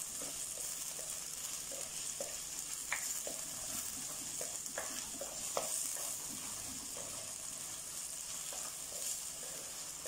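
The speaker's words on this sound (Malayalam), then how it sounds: "തക്കാളി ഒത്തിരി വഴറ്റണ്ട," Tomatoes briefly sautéed for a coconut-ground neymeen (seer fish) curry, hissing with a steady sizzle and scraped by a spoon with light, irregular taps on the pan, moderately close with no voices.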